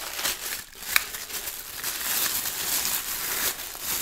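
Crinkling and rustling of plastic wrapping as a multifunction pressure cooker system is unpacked, a steady close-up crackle running throughout with one sharper snap near the start.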